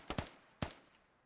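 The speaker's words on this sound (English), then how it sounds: "Lots of explosions." Explosions in the Squad shooter game, three sharp bursts in quick succession, two close together then one more, each fading fast, with no talk.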